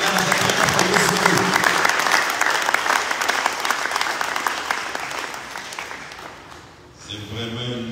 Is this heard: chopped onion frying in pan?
no